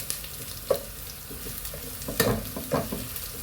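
Ginger and garlic frying in a pan, a continuous soft sizzle with a few sharp spoon scrapes and clinks as the pieces are stirred, close and moderate in level.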